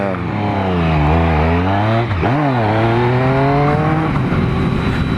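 Triumph Speed Triple motorcycle with an Arrow 3:1 full exhaust system, loud and close, revving up and short shifting, with engine pitch rising, dipping sharply at each gear change, then climbing again as it pulls away.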